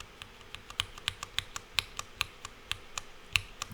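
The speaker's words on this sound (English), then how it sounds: "Cherry MX scratch." A mechanical keyboard with Cherry MX Black Hyperglide linear switches is tapped at a quick, uneven pace, each keypress giving a sharp, scratchy click at close range.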